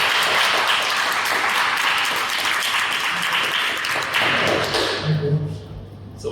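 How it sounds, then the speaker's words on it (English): A meeting audience applauds a speaker being introduced, steady dense clapping from many hands that fills the room for several seconds, then thins and fades toward the end. "Big round of applause."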